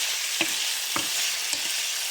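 Three quick scrapes of a utensil stirring beef strips in a hot frying pan, each one a short swish over a constant loud sizzle.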